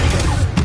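A short, dense crashing burst of the Incendio fire spell being cast in Hogwarts Legacy, loud and close with a rumbling low end.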